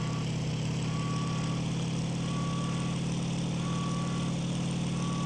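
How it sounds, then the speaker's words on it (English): Steady drone of a Bf-190F-2 fighter plane engine in the IL-2 Sturmovik flight game, with an overheating engine, running continuously at an even pitch with a faint repeating tone above it and no talk. "I still have problems with the overheating engine."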